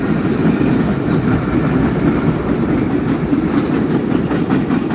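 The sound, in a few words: freight train passing by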